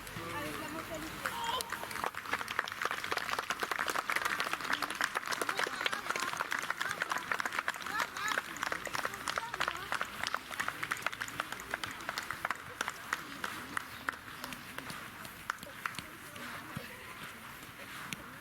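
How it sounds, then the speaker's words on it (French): Applause for the parents at a Royale Union Saint-Gilloise youth football event in Uccle, a sustained crowd clapping throughout amid outdoor chatter and voices, fairly steady and moderately loud. "Allez, on applaudit juste les parents là-bas à gauche avec la mentalité."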